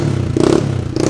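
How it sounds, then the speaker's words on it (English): Diesel Duramax engine swapped into a wrecked K20 truck runs with a steady low drone and rattly clatter, its pitch rising in two short revs, close and loud with no talk. "Zach over here showing Dedic what running engines sound like."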